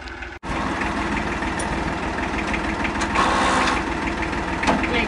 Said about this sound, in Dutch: En ik ga zo meteen de voortuin maaien.